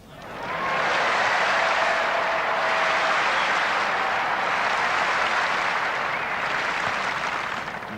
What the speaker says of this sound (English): And enthusiastically applauding that up on the Royal Box